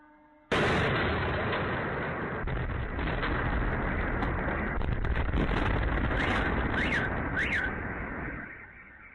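A sudden loud roaring blast from explosions and fires in Russia's Voronezh region erupts and rumbles on continuously, with crackling bursts layered in before it cuts off abruptly near the end.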